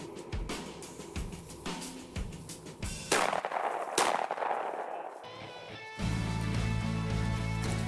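Shotgun shots fired while hunting bobwhite quail over pointing dogs in Georgia, several sharp blasts in the first few seconds, loud and close outdoors, followed by rustling and a steadier low rumble.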